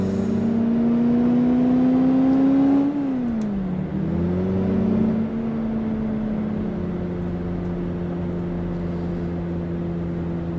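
A Mini John Cooper car engine in City Car Driving hums steadily while driving, its tone rising, then dipping briefly as it shifts and settling into a constant drone, loud and close with no talking.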